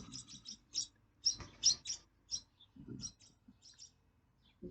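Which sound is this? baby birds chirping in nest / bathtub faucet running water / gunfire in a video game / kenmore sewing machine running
baby birds chirping in nest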